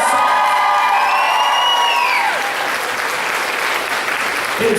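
Health science students at a college building grand opening cheer and applaud loudly as a dense, sustained crowd, with whoops and shouts rising over steady clapping.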